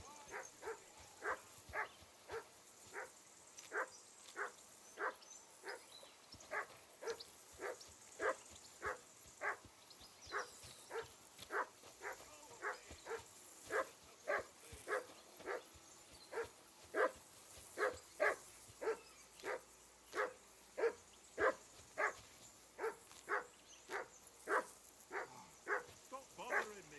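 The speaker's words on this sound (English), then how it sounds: "Jesus, Harry, that barking's driving me nuts." A dog in the video game Kingdom Come: Deliverance 2 barks repeatedly in a steady, evenly spaced rhythm, moderately distant, with some quiet background ambience.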